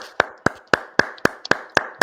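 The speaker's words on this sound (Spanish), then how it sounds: "Palmas, por favor." A single pair of hands claps eight times in an even, brisk rhythm, each clap sharp and close, with quiet gaps between.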